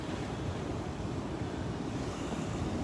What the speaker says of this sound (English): so I could catch these waves